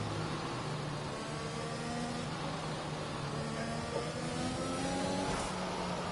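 Race cars in a video game trundle down the pit lane at a Singapore Grand Prix circuit, giving a steady, fairly quiet engine drone with a slight revving whir and no voices.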